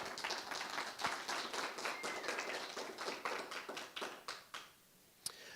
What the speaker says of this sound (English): So let's do another round of applause